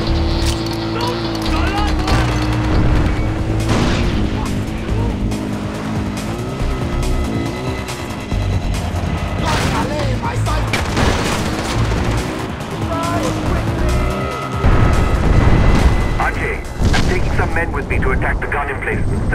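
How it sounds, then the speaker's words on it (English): Artillery shelling in the Far Cry 4 video game: heavy booming blasts and gunfire rumble continuously under dramatic game music, with a louder burst of explosions near the end, while in-game voices shout over the chaos. "Artillery! Ajay, they're shelling Utkash."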